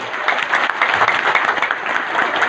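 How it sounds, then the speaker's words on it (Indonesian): Audience applause at a sales coaching event, a dense continuous burst of many hands clapping, loud and close, steady for its whole short length with no talk. "Tepuk tangan dong."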